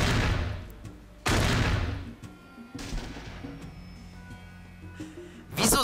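Heavy gunfire from a weapon in the video game Fallout 1: two loud booming bursts a second apart, a fainter shot later, then another loud blast at the end, with a dull rumbling tail between them and no talk.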